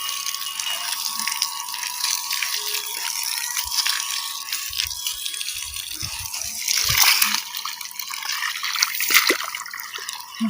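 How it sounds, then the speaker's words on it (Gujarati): Water runs steadily from a tap at home while clothes are filled and washed, a constant hissing flow with occasional rattles and splashes, close by and without speech. "પાણી આવ્યું છે ને તો પાણી ચાલુ છે"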